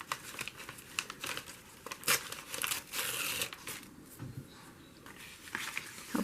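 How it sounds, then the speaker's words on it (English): Tape peeled and torn from the serrated cutting edge of a saran wrap box, heard as close crinkly crackling and ripping bursts with soft handling noises between them. "Hope I get all the tape off."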